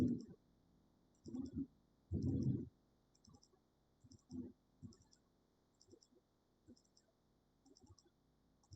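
A computer mouse clicks in small regular bursts during a GeoGuessr session, faint and close, with a voice talking at intervals.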